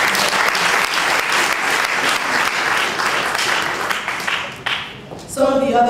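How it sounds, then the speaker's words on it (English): A large audience claps steadily and loudly for Plan International at a Liberia Medical Mission event, the applause fading near the end before a brief voice cuts in. "Can we clap for Plan International?"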